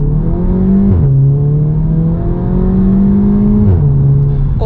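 A Volkswagen Scirocco's engine heard from inside the car, a loud steady drone that climbs in pitch and drops at each gear change, twice in quick succession, with no talking.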